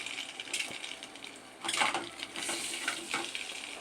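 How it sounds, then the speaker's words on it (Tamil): Halved boiled eggs stirred into an onion masala in a pan, soft sizzling with scraping and clinking utensil strokes against the pan in irregular bursts, close and fairly quiet. "இந்தமாரி வந்து நம்ம லைட்டாக ஃப்ரை பண்ணி வச்சுக்கலாம்."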